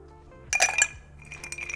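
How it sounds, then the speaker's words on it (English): A few ice cubes drop into a cocktail mixing glass for a bourbon Manhattan, giving bright, close clinks and rattles in two short clusters, with no talking. "I'm going to add a few ice cubes just to get this started."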